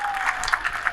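Applause from the audience at a Hindi comic poetry gathering, brief and moderately loud with scattered claps and a faint steady tone running beneath.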